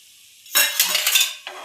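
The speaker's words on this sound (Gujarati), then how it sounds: "બધું સરસ રીતે મિક્સ કરી લઈશું." Potato masala gets mixed with lemon juice and coriander, starting after a quiet pause with a burst of clinking spoon-against-pan scraping and stirring, close and brief with no voices.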